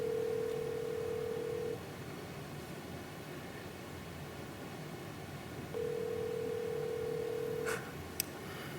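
A phone call being dialed: two steady electronic tones, each a couple of seconds long and separated by a hiss-filled gap, sound faintly over a quiet line, followed by a few short clicks near the end.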